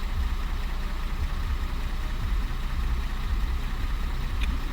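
A 2016 Audi Q7 4M 3.0 CVMD diesel engine idles steadily with a low, continuous rumble and a faint knock. It runs alone without pause.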